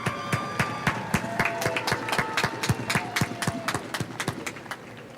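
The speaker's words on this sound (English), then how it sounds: "I think that deserves a round of applause." Scattered, uneven hand claps from a modest audience at Forsyth Technical Community College's 2021 commencement ceremony, with distinct individual claps rather than a dense roar, moderately loud throughout.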